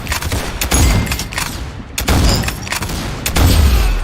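Bursts of video game gunfire crackle in quick volleys with booming low thumps, loud and close, pausing briefly before a heavier burst near the end.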